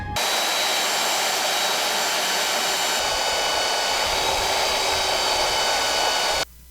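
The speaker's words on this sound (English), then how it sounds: "I'm going to use my very powerful Dad's old Craftsman sander" An old Craftsman electric sander runs steadily, contouring wood for a bookcase: a loud, continuous high whirring drone that holds for about six seconds, then cuts off abruptly.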